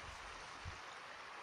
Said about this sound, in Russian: Речка.